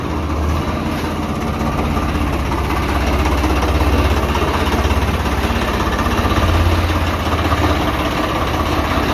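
A loud, steady tractor engine idling close by on a rice-sowing farm, a low rumbling chug with constant vibration throughout.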